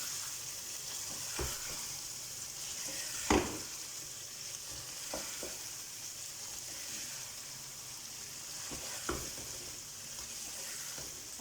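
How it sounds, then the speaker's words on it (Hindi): Chicken fries in a karahi with a soft, even sizzle, broken by a few distinct knocks and scrapes of stirring, the loudest one early on. "फिर हम अब चिकन डाल देंगे और वो फ्राई हो जाएगा।"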